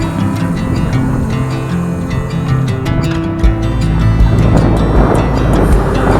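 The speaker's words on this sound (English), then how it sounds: "The wind had freshened with active sea conditions now, where it reflected waves back off the headland." Rough sea surf and gusting wind off a headland in Nova Scotia roar together, a constant broadband rush with swelling wave wash, loud and close.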